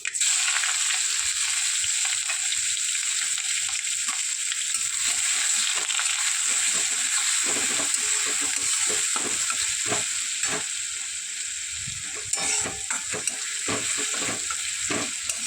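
Crushed garlic and green chilies frying in hot oil, a bright, continuous loud sizzle with spatula stirring scrapes and taps running through it, and no talk.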